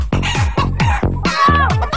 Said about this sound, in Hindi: ओ मेरे खुदा, मुर्गों को क्या हो रहा है?